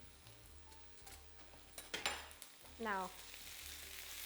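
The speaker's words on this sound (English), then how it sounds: "I'm going to let that saute till the onions go transparent" Onions and garlic sautéing in a pan for a spiced meat samosa filling, a quiet sizzle under a few clatters and a brief whistling pressure-cooker sound, with a short spoken word.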